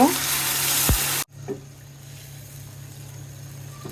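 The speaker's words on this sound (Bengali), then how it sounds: "রান্না করার জন্য ঝোল দিয়ে দিলাম।" Broth is poured into a sizzling pan of fried bean seeds for a rohu fish curry: a loud, close hiss that cuts off abruptly, followed by a quieter simmering bubble with a few faint knocks.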